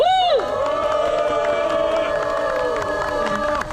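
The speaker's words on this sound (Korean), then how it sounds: "동지 여러분들의 신나는 함성과 박수로 시작하도록 하겠습니다" A rally crowd at a protest cultural event cheers and shouts in a loud, sustained burst right after a whoop, a dense wall of voices holding steady for a few seconds.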